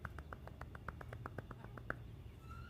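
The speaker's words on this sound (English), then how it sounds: "Everyone, golf claps. Golf claps for Rachel." A run of about fifteen soft, evenly spaced golf claps tapped by hand on a person's chest, quick light pats in a steady rhythm, close and quiet.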